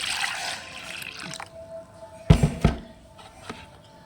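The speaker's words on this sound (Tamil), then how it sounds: "இந்த மிக்சியை கழுவி கொஞ்சம் அந்த தண்ணியும் சேர்த்துக்கலாம்." Rinse water with drumstick leaves is poured from a washed mixer jar into a bucket of homemade plant fertilizer: a soft watery rush, then a brief louder splashing burst near the end.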